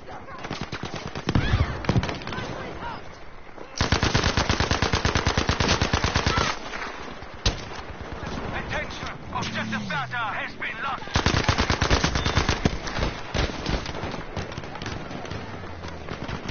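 Automatic gunfire rattles in a Battlefield video game, with long loud bursts broken by short pauses and scattered distant shots, while a player talks over the action.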